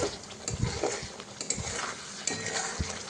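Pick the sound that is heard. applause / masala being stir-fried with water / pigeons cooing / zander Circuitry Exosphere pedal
masala being stir-fried with water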